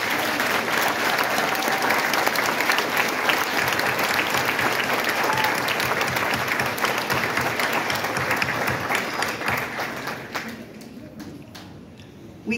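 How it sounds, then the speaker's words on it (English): At a 2023 university graduation ceremony, the audience applauds the nursing faculty as they stand. A large crowd claps loudly and steadily for about ten seconds, and the clapping then thins out and fades. "Let's give them a round of applause."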